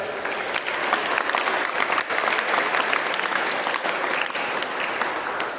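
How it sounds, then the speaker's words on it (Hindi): A school or university gathering in India applauds at a youth event, a continuous, dense crowd clapping that holds steady for over five seconds without talk. "एक बार अनिल सक्सेना के लिए एक बार ताली बजा दें"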